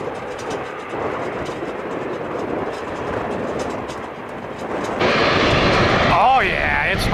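A HondaJet passes at an airport, a steady broad jet roar that swells louder over the final couple of seconds as it goes by, with a rising tonal whine near the end.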